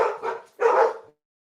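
Two or three sharp barks from dogs, close and loud, a quick short pair followed by a longer bark, then silence.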